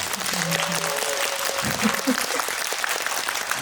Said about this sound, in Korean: 여러분 이렇게 애쓰는 독립영화인 류현경님에게 큰 박수 한번 부탁드립니다